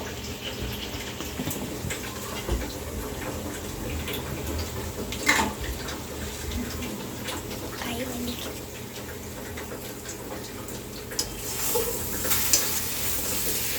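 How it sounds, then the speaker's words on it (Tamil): Sambar with asafoetida simmering in a pot on a home kitchen stove, stirred with a utensil: steady bubbling and sizzle with scraping stirs and occasional clinks, close and moderately loud throughout. "நல்லா கொதிக்க வேணும்"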